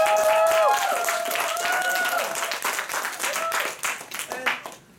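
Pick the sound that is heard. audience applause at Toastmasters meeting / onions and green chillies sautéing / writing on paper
audience applause at Toastmasters meeting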